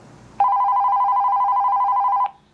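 A telephone bell rings in one steady, sustained electronic tone for about two seconds, clear and close, then cuts off.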